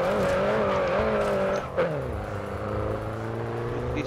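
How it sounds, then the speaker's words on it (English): A small car racing in the video game Grid Autosport, engine droning at high revs with a gear change and brief tire squeal midway, continuous and loud with no voices. "Go fast, you little bloody car."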